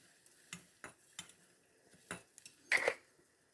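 Light scraping scoops and taps of a spoon measuring sugar, several soft strokes at uneven intervals, close by, ending in a slightly louder scrape.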